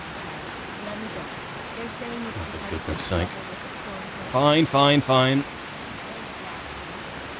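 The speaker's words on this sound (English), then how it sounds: "Do I really have to wait out the rain so I'm not going to be soggy?" Steady rain hisses evenly throughout a modded Skyrim game scene, a soft continuous wash under a man's brief, exasperated speaking.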